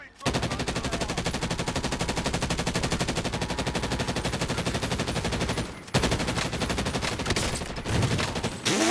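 Sustained, loud automatic gunfire strikes the player in a video game, a dense continuous rattle that drops out briefly before resuming.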